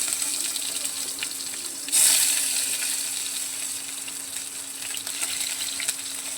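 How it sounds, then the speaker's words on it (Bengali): Chopped onion sizzles steadily in hot oil with melted sugar, a constant bright hiss that flares sharply as the onion hits the pan and then settles into an even fry. "অল্প একটু পেঁয়াজ কুচুনো দিয়ে এটাকে ভালো করে একটু ভেজে নেব"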